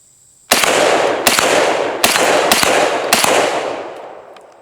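An M14 clone rifle fires five loud, sharp shots at steel targets, evenly spaced about three-quarters of a second apart, each crack ringing out with a long decaying tail and no talking.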